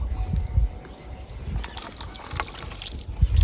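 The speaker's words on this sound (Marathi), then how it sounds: "आता मी का नाही ह्याच्यावरती ना पाणी टाकते" Water gushes and trickles into a pan of tempered dried Bombay duck (bombil) for a few seconds, a steady splashing pour with low rumbling underneath.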